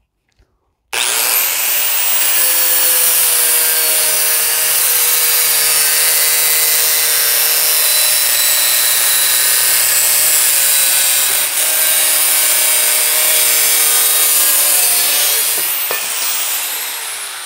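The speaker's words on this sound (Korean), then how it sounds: "그라인더 사용은 힘으로 하는 것이 아니고 이 고속 회전과 이 연마석이 절단을 하면서 마모를 시켜서" An angle grinder with an abrasive cutting disc cuts steadily for about fifteen seconds, a loud, continuous high whine and grinding roar after a short start, with a brief dip near the end before it spins down.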